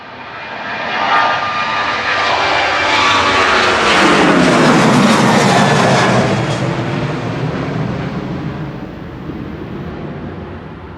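A Ryanair Boeing 737-800 jet departs Manchester Airport on a flight to Oslo Torp, its engine roar building to a loud, sustained peak with a sweeping pitch shift as it passes close by, then slowly easing off.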